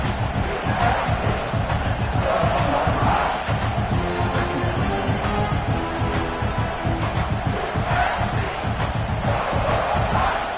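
A college football stadium crowd at a Clemson at South Carolina rivalry game roars steadily for the defense in the red zone, a dense, sustained wall of cheering and shouting with no break.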